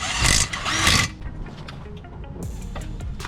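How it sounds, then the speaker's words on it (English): A 12-point 30mm socket on a tool breaks a wheel axle nut free on an MK4, heard as a loud close burst of impact rattling in the first second, then quieter clicks and knocks of the socket and tools. "So first step will be our big old 12-point socket, 30mm right here. We're going to use this to break our"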